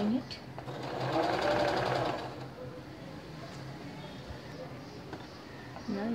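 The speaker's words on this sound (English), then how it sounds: "Now start sewing it." A sewing machine stitches piping around a neckline in one short, fast, whirring burst of a second or so. A voice then talks quietly over the quieter background.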